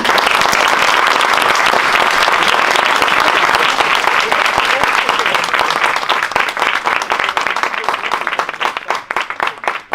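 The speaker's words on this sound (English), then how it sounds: "so first a round of applause" A university audience at Princeton gives a round of applause: loud, dense clapping that holds steady for several seconds, then thins into scattered individual claps and fades near the end.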